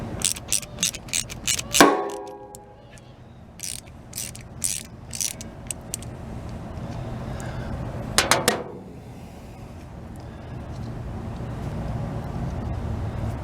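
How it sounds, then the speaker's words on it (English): A ratchet fitted with a 7/16 inch socket turns a bolt while adjusting an engine governor, giving quick bursts of sharp close clicks, then a pause and a second short clicking burst. "I just happen to have a 7/16 inch socket here."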